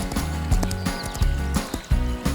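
A horse neighs and its hooves clip-clop in a steady rhythm, loud and close over a bouncy musical backing in a children's farm-animal counting song.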